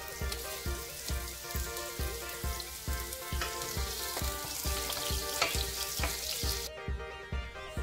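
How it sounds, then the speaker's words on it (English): Chopped ginger and garlic fry in a pan of hot oil, giving a steady, close, dense sizzle with a regular pulsing crackle throughout, alone with no talking. "Now add finely chopped ginger and garlic."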